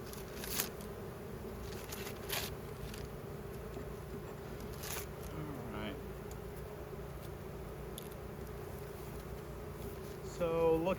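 Honey bees buzzing during an early May beehive inspection, a steady, close, droning hum throughout, with occasional brief handling scrapes and rustles over it.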